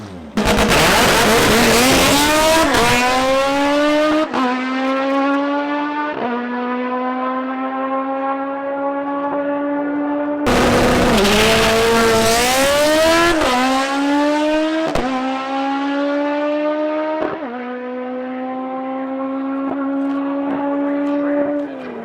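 Mitsubishi Lancer Evolution drag cars launching at a drag strip, two loud runs of screaming turbo engines climbing through quick gear changes and fading down the track, with no talking.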